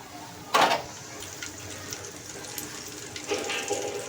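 Chicken pieces dropped into hot oil, giving a sudden loud sizzling burst that settles into a steady crackle, with a second surge of frying near the end.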